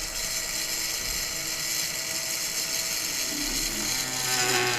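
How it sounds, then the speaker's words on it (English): A power drill whirs steadily while working on a Kraken II model submarine from InnerSpace, a continuous high mechanical buzz with slight ratcheting texture, rising a little louder at the end, no talk. "let me get out my trusty drill"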